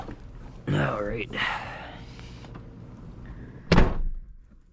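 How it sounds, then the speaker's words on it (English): A Nissan Skyline R32 GTST Type M door shuts with a single solid thump near the end, following a stretch of someone talking and some handling noises. "So when you close the door, the window actually touches the rain guard right here."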